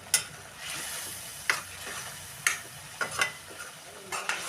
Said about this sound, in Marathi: हे सगळं घालायचं आहे आणि हे तेल सुटूपर्यंत चांगलं भाजायचं आहे